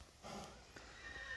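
A large horse gives a brief whinny, moderately close and fairly faint, lasting about a second over low background noise.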